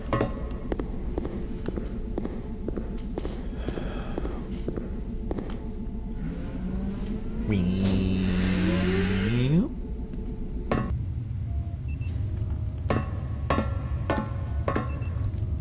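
Turbo lift in the Journeyman Project: Pegasus Prime video game, a rising electronic whirring hum that swells for about two seconds over steady game background ambience and clicks, then drops away.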